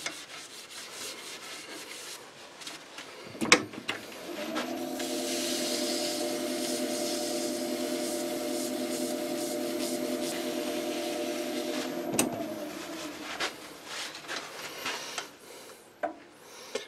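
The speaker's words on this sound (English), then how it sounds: "I'm now going to give it a coat of Yorkshire grit microfine" Yorkshire Grit microfine polish being rubbed onto a wooden ring, a steady, close friction hiss that runs for several seconds between quieter handling noises, with no talk.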